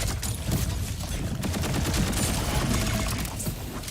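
Rapid, dense gunfire from the Borderlands 4 video game, a continuous fusillade of overlapping shots and bursts, loud and close throughout with no talk over it.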